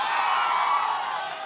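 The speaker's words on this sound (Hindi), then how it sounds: "तालियों के साथ स्वागत कीजिए।" Studio audience at a Hindi political debate show cheering and applauding to welcome guests, a dense, steady crowd roar with cheers and whoops, loud and continuous with no break.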